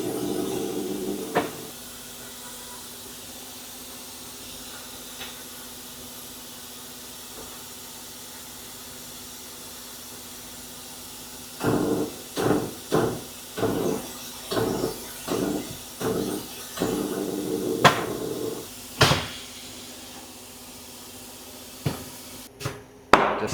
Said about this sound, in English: Just fill airs, there's a pop.